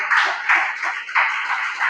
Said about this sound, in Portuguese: Pode sentar e bater as palmas bem alegre para Jesus